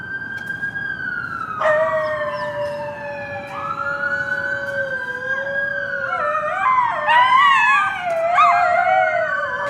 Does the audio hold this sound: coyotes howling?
yes